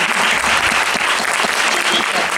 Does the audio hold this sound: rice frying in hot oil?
no